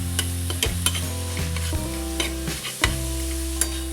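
Fenugreek leaf sabzi with roasted peanut powder sautéing on a tawa, a loud continuous sizzle with repeated rhythmic scrapes and taps of a spatula stirring, close and without any voices.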